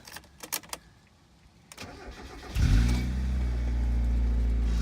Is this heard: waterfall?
no